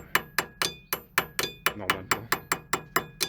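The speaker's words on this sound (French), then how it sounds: "vous voyez ces 2 goupilles, il faut les repousser à l'aide d'un marteau" Hammer blows knocking out the front brake pad retaining pins on a Citroën Saxo, about a dozen sharp metallic taps in a steady rhythm, close and fairly loud, with a brief burst of talk partway through.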